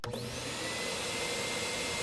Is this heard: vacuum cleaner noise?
yes